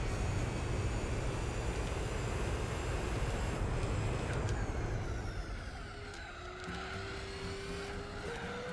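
Simulated race cars, including a 787B and Nissans, lapping Laguna Seca in Gran Turismo 4: a loud, continuous engine roar that dips and shifts partway through as the cars pull away.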